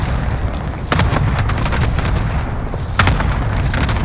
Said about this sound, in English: Here comes the airstrike.